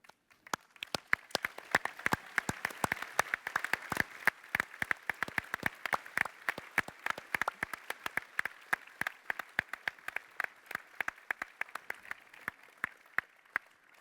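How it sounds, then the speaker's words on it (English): A conference audience at a corporate summit applauds ecosystem partners with sustained clapping from many hands, dense and continuous and slowly thinning toward the end, with no speech over it. "can you please stand up so we can all give you a round of applause?"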